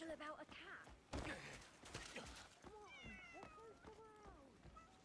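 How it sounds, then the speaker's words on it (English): A cat meows repeatedly in the Crimson Desert video game, with short rising cries over game sounds and a person talking at times. "Wow, a cat!"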